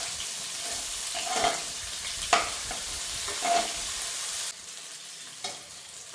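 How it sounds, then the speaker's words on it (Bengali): Chopped onions hiss and sizzle in hot mustard oil nearby, with periodic louder bursts as they are stirred around the pan. "দিয়ে দেবো কুচানো পেঁয়াজ। পেঁয়াজটা আমি হালকা করে ভেজে নেব।"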